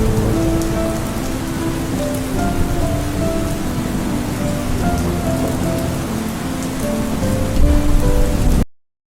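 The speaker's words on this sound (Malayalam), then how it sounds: "പുറത്തെ ചാറ്റൽ മഴയുടെ ശബ്ദത്തിൽ ലയിച്ച് രണ്ടുപേരും ഉറക്കത്തിലേക്ക് വഴുതി വീണു" Rain falls outside in a dense, steady hiss that grows slightly louder near the end before cutting off abruptly.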